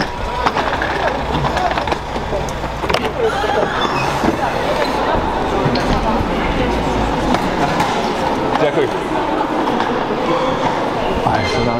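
Busy train station ambience in Ukraine with a train rumbling and clattering nearby, steady mechanical noise, and people talking in the background.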